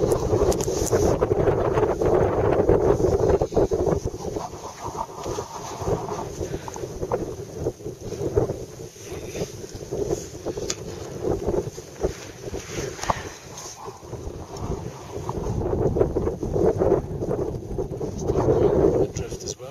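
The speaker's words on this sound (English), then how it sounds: "there's a little bit of wind up here" Wind buffets the microphone on a mountain at 6600 meters, a constant rough roar that swells and fades in gusts, with a voice speaking intermittently over it.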